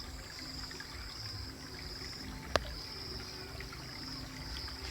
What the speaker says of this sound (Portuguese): Está aí a água passando.